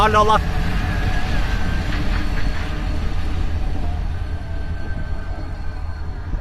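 A TCDD freight train coupling to wagons in a rail yard in Niğde, with heavy low rumble and a sharp metallic clank at the start, steady machinery noise throughout, and a voice talking nearby.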